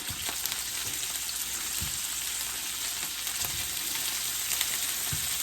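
Shredded pork for birria tacos frying in a hot pot, a continuous loud sizzle with scattered sharp pops and crackles throughout.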